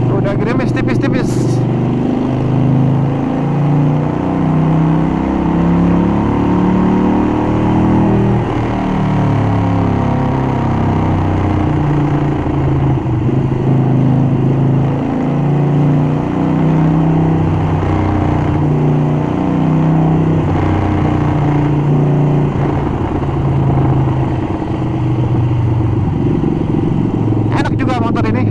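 Harley-Davidson Roadster 1200 motorcycle engine rumbling steadily while riding in light drizzle, a continuous low throbbing drone with shifting pitch as it accelerates and eases off, a voice talking over it.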